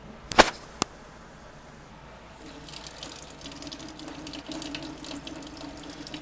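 Warm tap water runs steadily into a sink while a motorcycle part is scrubbed with a red scuff pad and a little soap, preceded by two sharp clacks and a brief quiet stretch.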